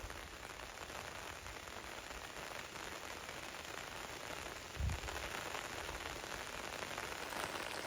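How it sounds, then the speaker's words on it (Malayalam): Heavy monsoon rain pours steadily in the hills of Vagamon, a dense, even roar that continues without a break, with one brief thump midway and no talk. "നല്ല കിടിലം മഴയും"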